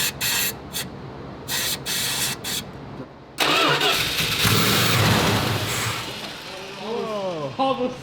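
A car engine cranks in several short starter bursts, then catches on starter fluid and roars to life loudly, settling into a rough running note with some rising revs near the end.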